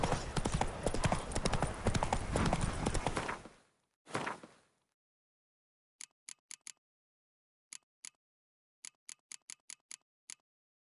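Roach, a horse in the video game The Witcher 3, with a loud rumbling stretch that cuts off, then crisp, isolated hoof clip-clops in short irregular groups against silence.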